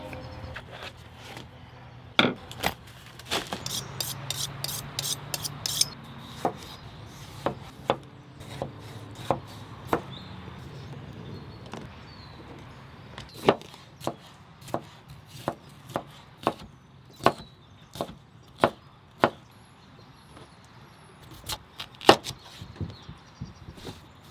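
Chef's knife chopping food on a board during outdoor cooking on a Skottle, a series of crisp sharp knocks, some in quick bursts and others spaced out, close and clear over a quiet background.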